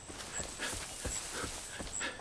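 Dog attacking in the open world of Far Cry 5, a series of short snarls and yelps recurring in quick bursts over steady game ambience, fairly close.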